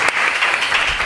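An audience bursts into dense, loud applause for a performer at a flamenco zambomba gathering, a short close burst of many hands clapping.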